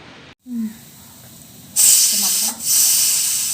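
A pressure cooker of lentils in a home kitchen releases steam through its whistle. A quiet start with a short tone gives way to a loud, sustained hiss that dips briefly once and then continues strongly to the end.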